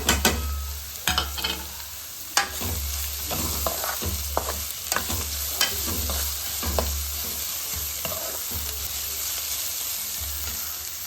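Soaked peanuts stir-fried in a pan, a steady close sizzle broken by repeated scraping strokes of a spoon against the pan, with no voices.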